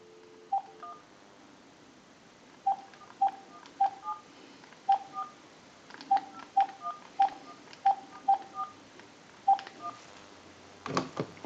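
Touch-tone keys on a telephone sound a quick series of short dialing beeps, spaced irregularly, as a time-and-temperature number is dialed. A louder click closes the sequence.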